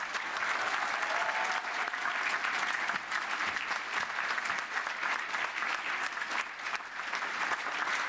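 Sustained applause fills a university graduation ceremony hall at the University of West London, a dense, even wash of many hands clapping continuously at steady volume.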